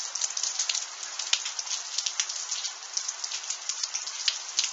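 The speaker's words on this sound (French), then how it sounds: "Et là c'est vraiment des trompes d'eau qui tombent. Avec de la grêle." Heavy rain pours steadily with a dense, hissing patter, with sharper ticks of hailstones striking a surface, in Tour-en-Sologne, France, in February.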